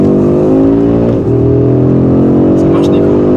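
A car accelerating hard, a loud, close engine drone climbing steadily in pitch, then dipping briefly at a gear change before rising again, with people talking inside the car over it.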